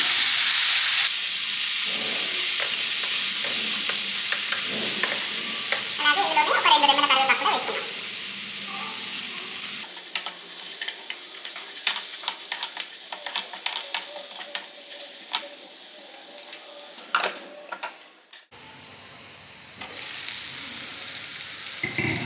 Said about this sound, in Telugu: మనం వేసుకున్న వెల్లుల్లిపాయ ముద్ద ఇంకా కరివేపాకు కూడా మంచిగా ఫ్రై అయిపోయాయి